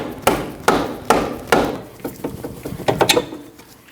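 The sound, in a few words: rubber mallet hitting Subaru knuckle to free outer tie rod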